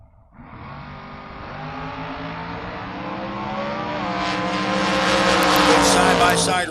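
A Camaro door car roars down the drag strip in a side-by-side race, the engine note building steadily louder and higher over several seconds beneath an announcer's commentary.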